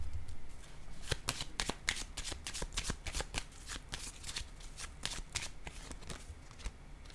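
Tarot cards shuffled by hand during a reading, a long run of quick, crisp riffling flicks with short pauses between bursts, close and steady with no talking.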